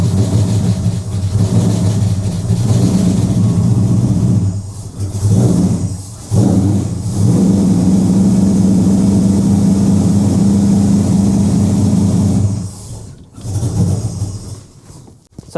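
A Ford 351 Cleveland V8 with a Holley carburetor running close up: a loud, steady, throaty idle that dips twice with brief revs, then settles back into a continuous rumble that fades near the end.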